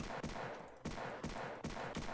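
Rapid gunfire in a Roblox shooter game, a series of sharp broadband shots spaced a fraction of a second apart, loud and with nothing else underneath.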